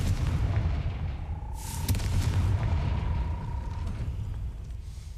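Confringo fire spell blast in Hogwarts Legacy: a single loud burst erupts near the middle, briefly flaring bright over a steady rumbling game background, then fades into a lingering tone.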